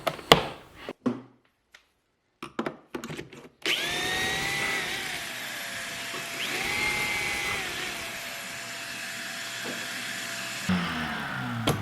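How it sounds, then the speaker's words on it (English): Cordless drill boring a couple of pocket holes through a pocket hole jig mounted at a drill press with dust collection, preceded by scattered clicks and handling knocks, then a sustained near whine that rises and dips for several seconds before stopping. "And drill a couple pocket holes."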